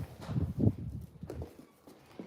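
A small horse walking with soft, steady hoof clip-clops on the ground, fairly close and moderately loud at first, then quieter as the steps continue.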